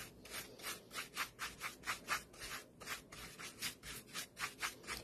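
A brush strokes wax onto a piece of artwork in steady, rhythmic swishes, about three per second, soft and close with no voices.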